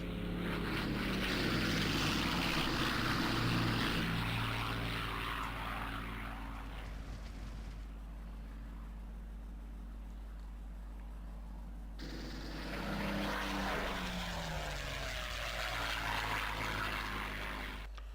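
A WWII fighter's propeller engine roars steadily, swelling loud at first, easing off mid-clip, then rising again with a rough ripping drone; no voices.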